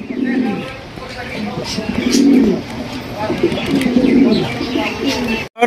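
Deep, throaty coos from Bombay pigeons at a pigeon sale repeat in a slow rhythm, several rolling calls close by over a steady background murmur.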